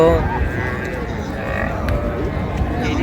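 A cow lows in a long, drawn-out moo over a busy, noisy crowd with people talking nearby at Raniganj cattle market in Dinajpur.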